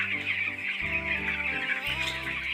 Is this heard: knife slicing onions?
no